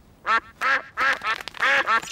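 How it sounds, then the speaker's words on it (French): A run of about six loud, nasal cartoon duck quacks in quick succession, close and clear, with an exaggerated quality, from a Peppa Pig episode. "Les canards aiment bien le pain"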